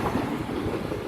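Train 197043 passes a level crossing on the Conwy Valley Line with a brief burst of loud, close rumbling wheel and rail noise.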